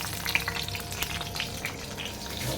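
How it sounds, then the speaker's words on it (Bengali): Green chillies dropped into hot oil in a home kitchen, a soft, steady sizzle with faint crackles, fairly quiet, no talk. "তেলটা গরম হয়ে গেলে দুটো কাঁচা লঙ্কা দিয়ে দিলাম"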